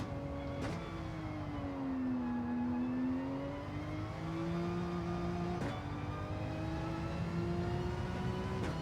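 Porsche 911 engine in Gran Turismo 7 on the Barcelona circuit, a steady sustained drone with rising and falling pitch as the throttle is held, punctuated by two brief gear-shift breaks.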